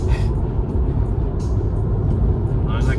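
A roadside assistance mechanic's vehicle pulls up beside a Tesla with a nearly flat battery, its engine a steady low rumble that stays close and fairly loud throughout, with brief hissing bursts on top.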